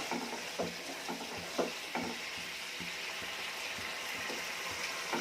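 Bitter gourd curry simmers in a covered pan on the stove, giving a quiet, steady hissing bubble with occasional soft pops and lid clinks.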